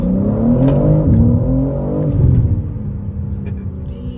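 A 2023 BMW G80 M3 Competition xDrive, stock, accelerates hard in a quick pull, its exhaust rising in a loud, rumbling, revving drone heard from inside the car, with someone speaking briefly over it.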